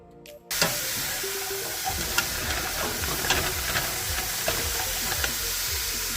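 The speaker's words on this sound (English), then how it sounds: "We'll turn it on and we'll start frying up our mirepoix" Diced mirepoix vegetables sizzling steadily in a little oil in a pan, a continuous close frying hiss with faint crackles and small clinks of stirring throughout.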